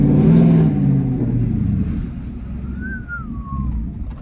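Twin turbo Ford F-150 pickup engine revving with a deep, steady rumble and a faint turbo whistle rising and falling over it, close and without talk.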